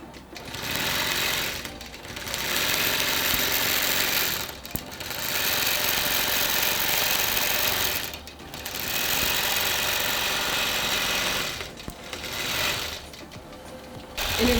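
Longarm quilting machine stitching a quilt: a loud, steady, rapid mechanical whir-hum running in long stretches, stopping briefly between them, close by with no talking.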